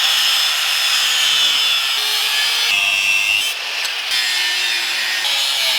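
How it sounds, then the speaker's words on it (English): Angle grinder cutting off brackets on a Ram TRX truck, a loud continuous high grinding screech that shifts in pitch as the disc bites into the metal. "We gotta cut off this bracket right here and this bracket here. Our tool of choice is gonna be the angle grinder"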